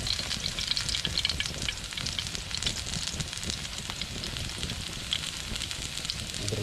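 Sweet potato filling sautés in oil in a pan with a steady, close sizzle and crackle, with occasional stirring scrapes.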